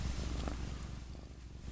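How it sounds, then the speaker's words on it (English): A cat purrs continuously while being held up, a low rhythmic rumble close to the microphone with no talk. "See, if I hold her up here, you hear the purring."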